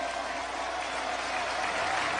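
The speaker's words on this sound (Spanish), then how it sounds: "lo vamos a aplaudir" An audience applauds Pope Benedict XVI in a steady, dense wash of clapping that holds at an even level throughout the short stretch.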